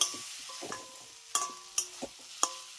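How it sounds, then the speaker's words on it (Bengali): Fried potatoes stirred into dry spice masala in a pan, making a few scattered scraping clinks and soft stirring scrapes over a faint sizzle, fairly quiet with no talk. "আর ঠিক এই পর্যায়ে আমি এর ভিতরে অ্যাড করব ভেজে নেওয়া আলুগুলো তো মশলার সঙ্গে ভালো করে একবার মিশিয়ে নেব"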